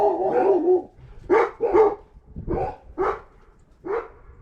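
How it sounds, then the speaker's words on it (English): Dogs bark close by in a house, a series of about six sharp, separated barks, the first one longer and drawn out, with quiet gaps between them and no talking. "Sorry about my dogs there."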